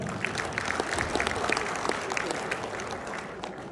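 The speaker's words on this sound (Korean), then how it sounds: "박수 좀 부탁드리겠습니다" Members at a clan association general meeting clap together in a brief burst of applause, many hands at moderate distance with distinct individual claps audible.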